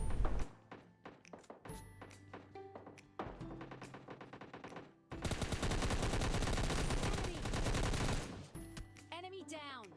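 Gunfire in the mobile video game PUBG Mobile Lite: single shots and short bursts at first, then a long sustained automatic burst, loud and close, followed by a few scattered shots.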